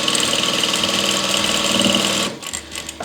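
A sewing machine stitches across a thick seam while sewing satin and cotton fabric, giving a loud, steady, fast mechanical hum that stops abruptly partway through, followed by a few softer clicks.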